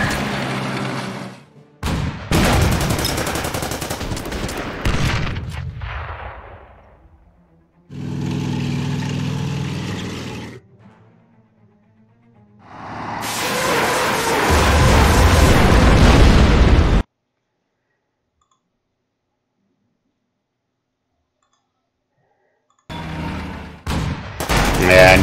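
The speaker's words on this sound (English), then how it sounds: "So let's wait for combat to get over." Battle sounds from the WWII strategy game Order of Battle: loud bursts of explosions and gunfire arrive in several separate blocks with silent gaps between them, and a final burst comes near the end.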